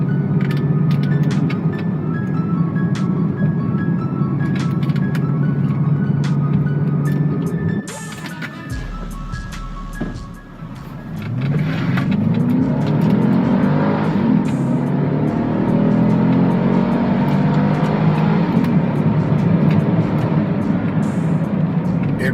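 An Acura NSX supercar accelerates hard along winding canyon roads, its engine note loud and close and rising through the gears, with a brief dip before another long pull and sweeping climbs in pitch.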